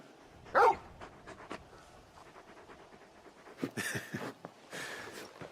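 A large dog in Final Fantasy 16 pants in short bursts with a few soft whimpers and sniffs, close by, with no one talking.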